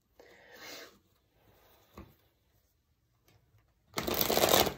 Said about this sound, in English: A few shuffles.